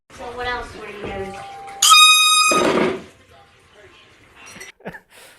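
A prank air horn gives one loud, sustained blast lasting about a second, cutting in after excited voices. Chatter and laughter stay faintly in the background afterward.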